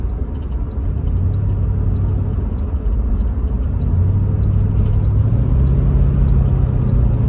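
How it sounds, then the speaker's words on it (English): A car rolls along steadily, its engine and road rumble loud and continuous throughout, with no talking. "the car rolling good though"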